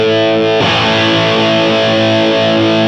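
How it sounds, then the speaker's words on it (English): Electric guitar through a Line 6 Helix with a narrow, maximum-Q EQ sweep: a loud, sustained distorted chord rings continuously, its tone shifting harshly as the boosted band moves, no talking. "now I'm going to sweep to find those funny frequencies."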